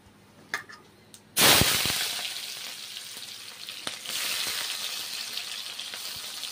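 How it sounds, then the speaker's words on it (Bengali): Sliced onions drop into hot mustard oil with a sudden loud hiss after a few light clinks, then settle into a steady, close sizzle that swells again partway through. "পেঁয়াজগুলো ভেজে নিচ্ছি"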